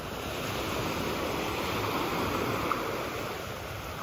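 Ocean surf rolling onto Sunny Isles Beach in Miami at sunset, a steady broad wash of waves with light wind noise, continuous and even throughout, no voices.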